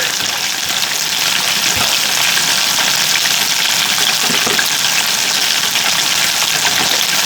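Red chilies and diced jalapeno sizzle in a frying pan for island-style wings, a loud, steady hiss that runs without a break and with no voices over it.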